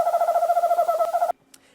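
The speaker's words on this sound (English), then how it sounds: "Then the eastern screech owl." An eastern screech owl gives a close, clear, tremulous trill, a rapid wavering whinny held steadily for over a second before cutting off abruptly into near silence.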